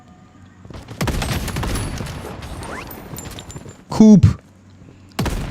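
Gunfire in the Blood Strike battle royale game during a tournament match, with a burst of rapid shots followed by sharp, loud reports near the end, heard under a commentator's voice.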